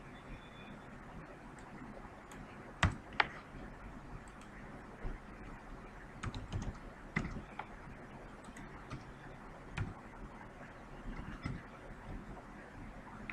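Computer keyboard keys clicking as Python code is typed, sparse irregular taps and short bursts, fairly quiet and close, with no one talking.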